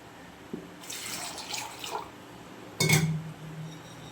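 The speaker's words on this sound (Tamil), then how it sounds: "தண்ணி ஊற்றிக்கலாங்க" Water poured into a pan of tamarind curry with elephant yam, soft splashing bursts near the mic, then a brief louder pour and trickle, with no talk.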